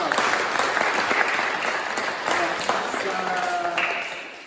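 Audience applause fills a church before the opening of a musical tale performance, a steady dense clapping wash that holds loud throughout and eases slightly toward the end.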